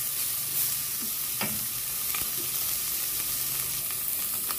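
Beef fat rendering in a pan for nilagang baka, a close, steady sizzle with scattered pops and a utensil scrape or two, with no voices.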